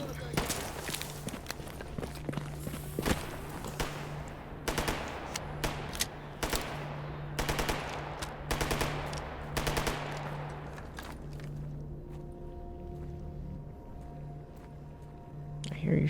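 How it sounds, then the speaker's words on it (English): Enemy gunfire from bandits in Stalker GAMMA: bursts of automatic shots and single cracks ring out repeatedly amid footsteps and a steady hum, with someone talking now and then. "I hear you shooting, but I don't see you."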